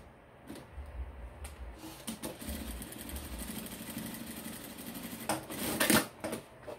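A sewing machine stitches a fabric seam closed on a 3D-fabric toiletry bag, running in short rapid bursts of mechanical whirring, with a few louder clicks and knocks toward the end.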